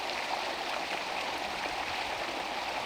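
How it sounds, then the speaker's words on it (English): Steady broadband rush of flowing water, continuous and fairly close, with no other sounds standing out. "We found where the water moves from yesterday"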